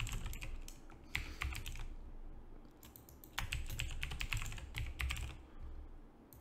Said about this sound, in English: let's type a password.